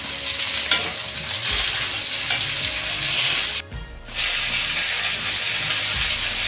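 Yardlong beans and already-fried potato pieces sizzling together in a pan, a loud, close, continuous frying hiss with scraping stirs, briefly dipping mid-way before resuming; no talk.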